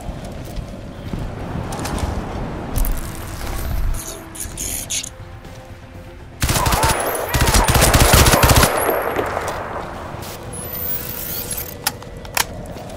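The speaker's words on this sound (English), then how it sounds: "I don't even see them when they're shooting." Sustained machine-gun bursts and gunfire in a Crysis 2 Remastered firefight, loud and dense, with a heavier barrage in the middle and scattered shots after it.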